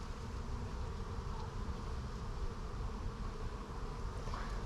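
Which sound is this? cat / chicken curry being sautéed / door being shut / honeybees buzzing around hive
honeybees buzzing around hive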